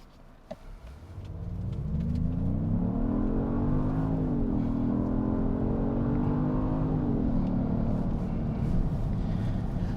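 A 2025 Genesis GV80 SUV's engine rumbles low, then revs up steadily with rising tones that dip and climb again, a hard acceleration from a standstill launch with the center differential locked, close by and loud throughout.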